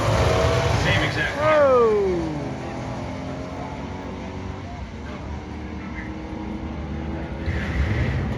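An L88 Corvette launching at a drag race at the NMCA World Street Finals in Indianapolis, its engine revving hard to about 8,000 rpm then easing into a loud, rumbling drone against trackside noise.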